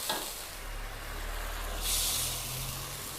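Homemade stir-fry sauce for holy basil stir-fry poured into a hot pan, giving a soft, steady sizzle that swells into a brighter hissing burst partway through, with no talking.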